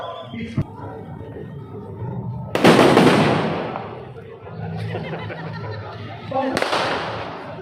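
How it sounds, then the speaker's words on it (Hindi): Grenade blasts during an ATS bus hijack mock drill in Patna, two sharp loud bangs a few seconds apart, each followed by a rushing decay, with people talking in the background. "आतंकियों का ध्यान भटकाने के लिए एटीएस की डिफेंस टीम ने बस के पीछे से ग्रेनेड चलाया"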